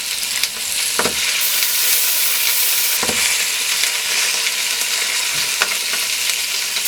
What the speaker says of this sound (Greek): Θα το τσιγαρίσουμε ομοιόμορφα από όλες τις πλευρές.